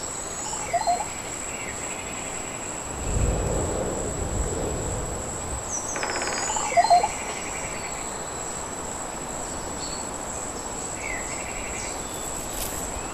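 Video game forest ambience built in Unreal Engine 5 MetaSounds: a steady high insect-like drone over a soft windy bed, with scattered bird chirps and a low rumbling swell, faint and continuous without voices.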